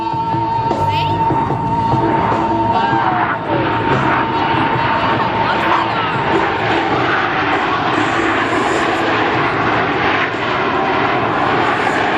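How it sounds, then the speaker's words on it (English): Four Blue Angels jets in tight diamond formation roar past at a practice air show, a loud sustained engine rush that fills the whole stretch without letup, heard outdoors with a public-address voice faintly mixed in. "The Blue Angel Diamond will momentarily be making its approach from the right."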